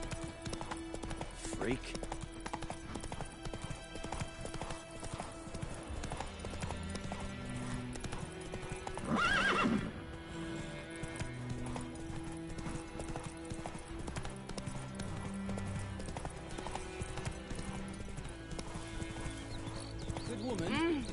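Roach, a horse in The Witcher 3, trots with rhythmic clip-clop hoofbeats that run steadily throughout, with a neigh partway through, while a voice speaks over it.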